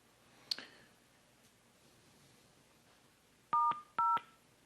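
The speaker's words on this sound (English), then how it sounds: "Callers may mute themselves by pressing star 1." Two short telephone keypad tones, a caller pressing star then 1 on a conference call line, sounding as two clean beeps in quick succession near the end after a faint click and quiet line hiss.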